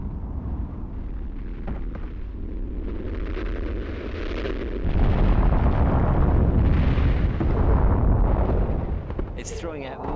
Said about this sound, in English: It's throwing out massive amounts of red-hot rock, and you can hear the bangs as they hit the ground, the great thumps